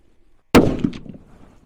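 A single rifle shot from a Seekins HAVAK PH2 chambered in 300 PRC at an outdoor range, a sudden loud close crack followed by a short rolling echo that fades over about a second.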